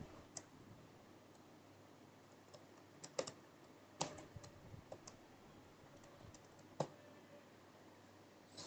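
Faint, steady typing on a computer keyboard while code is written, with irregular soft clicks and a few louder key taps against quiet background hiss.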